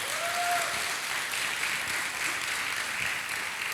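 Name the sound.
congregation applause in church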